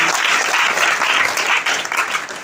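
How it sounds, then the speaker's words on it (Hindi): Loud, dense applause from a large audience at a Hindi poetry gathering of the kavi sammelan kind, with many hands clapping steadily for the full stretch and no voices standing out. "उन सब के लिए एक साथ जरा जोरदार तालियों की गड़गड़ाहट करिए।"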